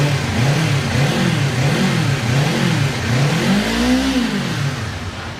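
Kawasaki Ninja 500 SE motorcycle engine revving close by, a steady loud drone rising and falling in several quick throttle blips before one longer, deeper swell, with no talking.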